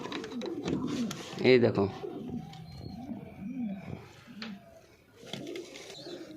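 Baby domestic pigeons in a home loft give soft, low cooing and squeaky calls, close by, while a person talks over them.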